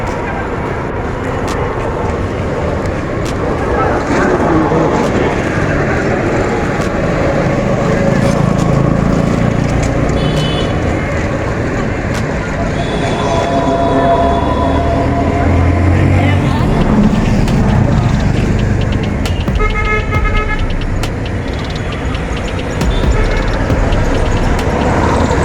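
Steady traffic rumbles on a main road beside a school playground, vehicles and engines passing with occasional horns, while a voice talks over the noise.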